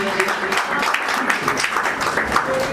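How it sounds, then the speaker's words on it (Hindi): Applause from the audience at a musical group's event in Paschim Vihar, greeting arriving guests; a steady, dense wash of clapping runs throughout, with some voices mixed in. "आपका पधारने के लिए जोरदार तालियों से स्वागत किया जाए प्लीज"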